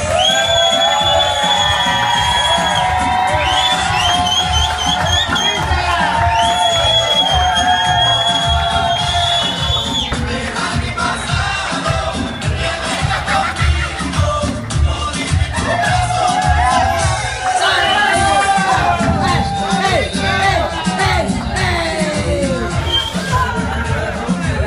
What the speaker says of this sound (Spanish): pido un fuerte aplauso y que vean los novios, porque van a entrar Víctor Díaz y Lucía Varela